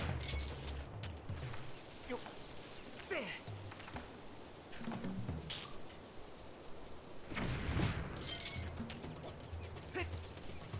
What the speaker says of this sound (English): we're just going to use a bomb then